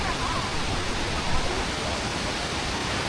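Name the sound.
waterfall in northern Laos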